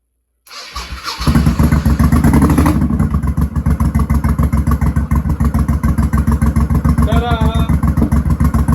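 A Honda Shadow motorcycle with its carburettor choke bypassed starts up close by, catching after a brief crank and settling into a loud, steady, rhythmic idle.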